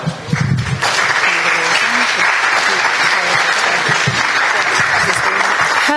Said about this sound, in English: Please give a warm round of applause to Live On New York.